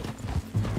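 Horse hooves clip-clop steadily in Red Dead Redemption 2, near and moderately loud, with a few louder footfalls marking the rhythm across a brief stretch and no voices over it.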